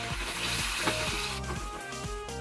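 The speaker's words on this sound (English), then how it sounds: "Let garlic and onion get a brown color." Onion and garlic paste frying in a tablespoon of cooking oil in a pan, a steady close hiss and crackle of sizzling without pause.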